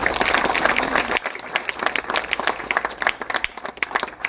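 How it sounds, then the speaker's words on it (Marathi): A crowd applauds loudly and steadily at first, then the clapping thins into scattered, uneven claps that continue to the end. "आपण पुनश एकदा टाळ्या बाजून अभिवादन"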